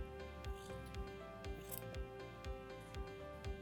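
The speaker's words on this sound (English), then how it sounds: "You'll insert your scissors and cut along the guide to cut across the wrapped yarn." Scissors snip through yarn wrapped around a Clover pom-pom maker, a quiet, close series of regular crunchy cuts roughly every half second, with no talking.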